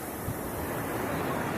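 Pacific Ocean waves washing onto a beach on Hokkaido, Japan, a steady broadband roar of surf mixed with wind noise, continuous and fairly loud with no voices.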